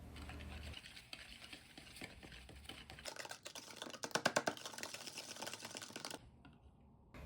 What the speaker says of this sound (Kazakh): Алдымен ыдысымызға жұмыртқа, қант, ванилин салып жақсылап араластырып аламыз.